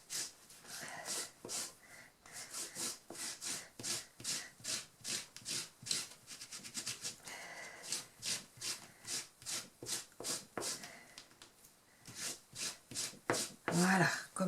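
Rapid rhythmic rubbing strokes clean masking fluid off scrapbook paper, close and crisp, in quick bursts with brief pauses and a voice talking quietly between them.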